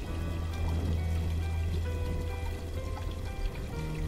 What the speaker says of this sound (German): Das Wasser läuft über.